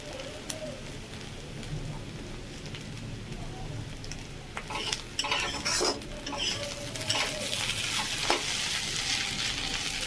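Radish fries in fish oil in a pan with a steady, close sizzle, broken by scraping stirs and the clink of a utensil against the metal; no one speaks.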